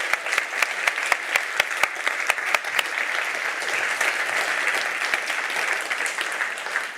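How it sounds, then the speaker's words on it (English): Audience applause at a Nobel Peace conference session on Woman, Life, Freedom: sustained clapping from a large crowd, dense and steady across the whole stretch, with a few sharper individual claps standing out near the start. "Give them another round of applause,"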